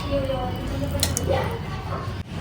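Onion and garlic paste is pressed by hand to wring out its water, making brief wet squishing sounds under a person talking close by.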